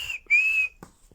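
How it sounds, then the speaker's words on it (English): A single sustained whistle blast, steady and fairly loud for about half a second, followed by a faint click, with no one talking. "Paddington suddenly blew several warning blasts on his whistle"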